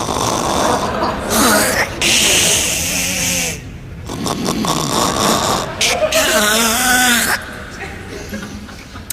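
Snoring that imitates a car engine struggling to start, rough rasping snores in repeated bursts separated by short pauses, loud and close, with no talk.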